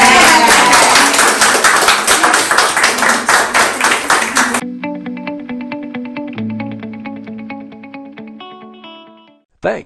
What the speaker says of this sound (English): Give everybody a hand clap.